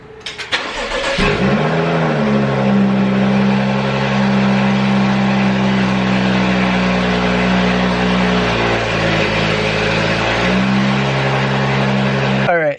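A BMW 435i cranks and fires up after a week sitting, then settles into a loud, steady idle with a slight dip and recovery in pitch partway through, close up and continuous until the end.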